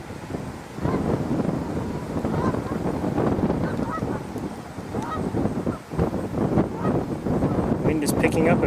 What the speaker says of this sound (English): Wind is picking up a bit again.